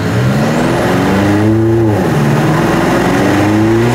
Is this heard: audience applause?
no